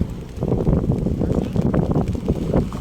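Strong gusty wind buffets the microphone on a river boat at Chandpur during rain. It makes a loud, rough, pulsing low roar that fills the short stretch without a break.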